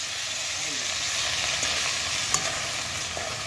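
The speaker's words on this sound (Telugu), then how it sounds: "ఇప్పుడు బంగాళదుంపలు వేసేసుకుంటున్నాం అన్నమాట. పచ్చి బంగాళదుంపలే." Raw potato pieces frying in hot tempering oil in a pan over a wood-fired stove, a steady close sizzle with a few stirring scrapes and clinks, no talking.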